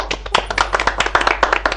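An audience at a Catholic youth festival podcast event claps in a close, loud burst of rapid, uneven hand claps lasting under two seconds.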